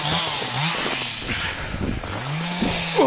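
Chainsaw cutting firewood for a bathhouse stove in the forest, a loud buzzing engine that rises and falls as the blade bites into the wood, close and continuous for a few seconds.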